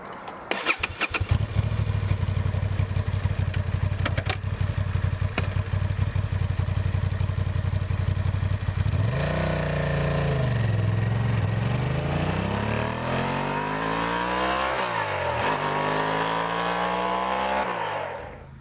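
A Honda XL750 Transalp adventure motorcycle starts up with rapid cranking and sputters, then settles into a running engine. It revs and pulls away, its pitch rising and falling through the gears as it rides off.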